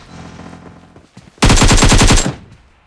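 Rapid automatic gunfire bursts out loud and close in a PUBG Mobile match, a dense rattle of shots lasting about a second after quieter game ambience and faint clicks.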